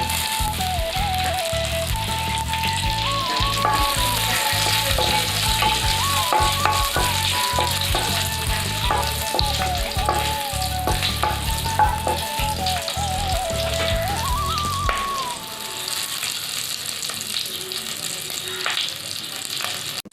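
Steady, dense sizzling of bay leaf, whole cumin and green chillies frying in leftover fish-frying oil, with a rattling, clattering texture throughout and faint background music before it thins out near the end.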